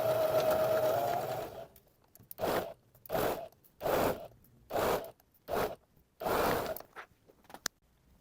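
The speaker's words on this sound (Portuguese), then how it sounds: "vou costurar normal com um pezinho de máquina" A home sewing machine running in a series of short, even bursts with brief pauses between them while a blouse yoke is stitched, close and distinct, preceded by a longer steady stretch of machine noise.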